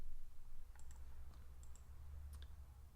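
A computer keyboard is typed on in short, faint bursts of light clicking over a quiet background hum, a handful of keystrokes at a time.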